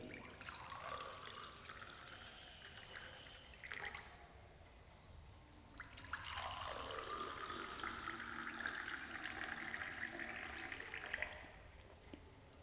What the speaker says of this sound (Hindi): यहाँ पर हम पानी के जग से दोनों ही गिलासों में जल भरेंगे